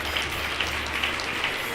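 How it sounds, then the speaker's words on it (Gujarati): Audience applause fills a religious gathering, the Day 3 morning sabha of the Shree Muktajeevan Swamibapa Smruti Mandir silver jubilee, as a steady dense wash of clapping that holds at an even loudness throughout. "આપણે જોરદાર તાલીઓનો ગડગડાટ"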